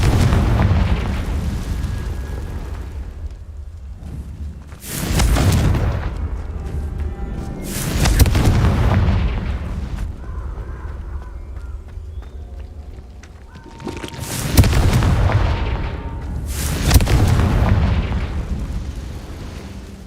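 Confringo blasting spells in Hogwarts Legacy explode in repeated heavy booms, about four large bursts spaced a few seconds apart, with rumbling combat noise between them.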